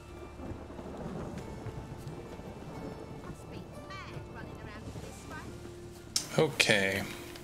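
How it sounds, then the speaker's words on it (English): Rain falls steadily in The Witcher 3, a soft continuous patter under game voices, with a louder rumbling burst of thunder near the end. "Rain again."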